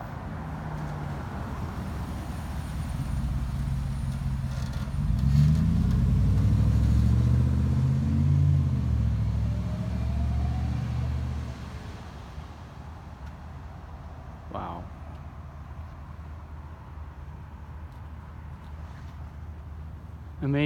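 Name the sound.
cars driving through a stop sign without stopping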